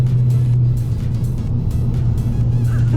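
A completely stock, unmodified Volkswagen Mark 6 GTI with a manual gearbox and K03 turbo accelerating, its engine a loud, steady low drone heard from inside the car with no talking.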